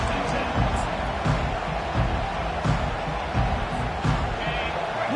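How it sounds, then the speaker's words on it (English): A football stadium crowd keeps up a steady, dense roar throughout, swelling in brief surges, with voices mixed in. "Listen to the crowd energy here in the early going."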